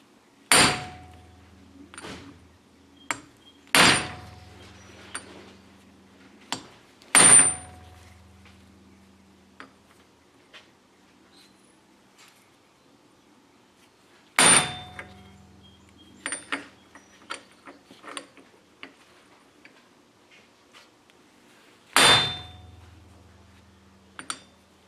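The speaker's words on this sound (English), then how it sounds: "I'm going to try hammering it first." Sharp metallic hammer strikes ring out in isolated single blows and short bursts, separated by quiet pauses, with small clinks in between, as a front wheel bearing is hammered out of a Ford Focus.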